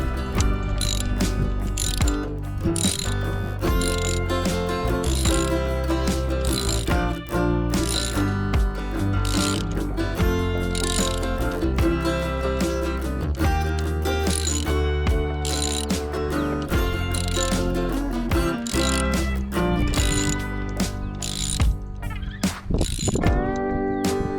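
Electric fence wire tensioners on a grape trellis ratchet tight in a steady run of sharp metallic clicks, repeated rhythmically and close by, with no talking.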